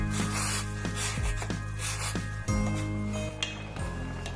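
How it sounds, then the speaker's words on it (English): A utensil stirs rice and water in a pot on a gas stove, making repeated scraping and rubbing strokes with soft clinks against the pot, steady and close over a constant background hum. "I'm gonna stir it, and I'm just gonna keep on stirring it for a couple of minutes."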